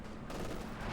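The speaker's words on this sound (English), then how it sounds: "pretty much just mauling there with heavy 50 caliber fire" Heavy 50 caliber machine gun fire in Company of Heroes 2, a rapid, continuous rattle of shots, quiet and distant, with no talk.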